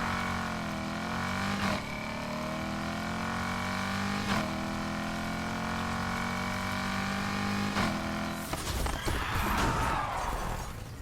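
A car engine in the racing game NFS Heat is held at about 3,000 RPM in 2nd gear for a launch, a steady loud droning rev with small blips, then a sudden roaring surge as the car takes off.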